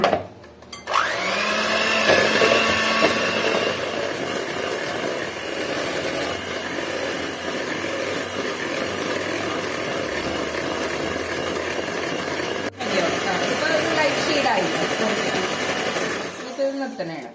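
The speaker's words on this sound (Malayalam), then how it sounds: "ഇത് നന്നായിട്ട് ബീറ്റ് ചെയ്യാൻ പോണെയാണ്." An electric hand mixer beats milk and sunflower oil together for a jar cake batter, running as a steady whirring drone almost throughout, with a brief dip near the end.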